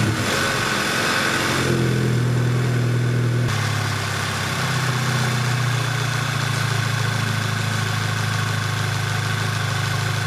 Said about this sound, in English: we're just going to go ahead and start the car and double check our work